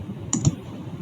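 Two quick, close key clicks on a computer keyboard sound in rapid succession over a low background murmur.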